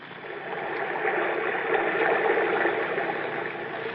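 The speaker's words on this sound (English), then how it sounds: "When I press my ear against the wall, I can hear the water running. Like it was a river under the ground." Running water rushes like an underground river in a 1971 radio drama, a steady, muffled broadband flow that swells slightly and then holds, with no voices.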